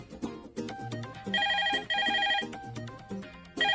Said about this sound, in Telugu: ఫోన్ చూడు.